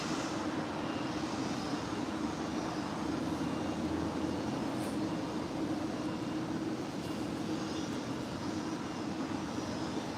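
Airliner jets taxi at LAX, including a Turkish Airlines 777-300ER, as a faint, distant, constant engine rumble and whine with no voices.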